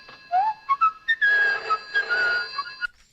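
A man whistles a short, lilting tune while walking to a phone in a Hammer Quatermass film, clear solo notes rising and sliding over about three seconds, close and alone with no talking.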